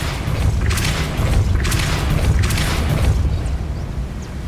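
Depulso force spell cast in Hogwarts Legacy gameplay: a few forceful whooshing blasts with booming thuds, repeating roughly every second over a dense, rumbling game background, with no voices.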